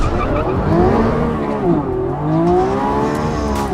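A Lamborghini Revuelto's 6.5-liter naturally aspirated V12 engine howls close by, its pitch sweeping up and down through gear changes in a brief, loud burst.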